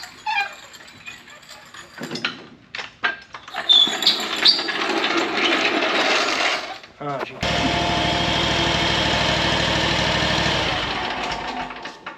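A lawnmower engine idles steadily while warming up, a continuous loud mechanical drone that takes over partway through after some clattering and handling noises, with someone talking near the start.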